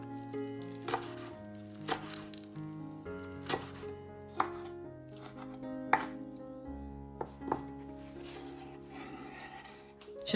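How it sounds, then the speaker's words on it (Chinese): Knife chops zucchini on a cutting board in a home kitchen, a series of crisp, evenly spaced thuds about once a second, close and moderately quiet, with soft scraping between strokes and no talking. "将西葫芦切成两半"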